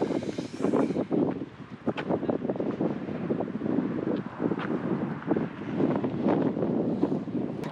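Strong wind buffets the microphone at an abandoned factory site in Albania, a steady loud rumble with gusty surges throughout and no one speaking.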